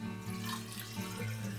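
Sugar shine spirit poured straight off a reflux still, a steady, close liquid pour that runs continuously and fairly loudly with no talking.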